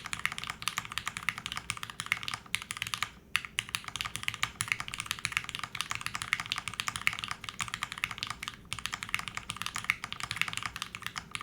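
Steady, close typing on an Alice-layout ergonomic mechanical keyboard, a continuous stream of crisp keystroke clacks with a couple of brief pauses, no voices.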